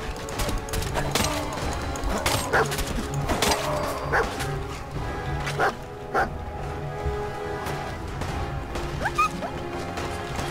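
Dog whimpers and yips from the video game Fallout 4, mixed with barking and repeated smacking hits over a busy, steady game soundtrack.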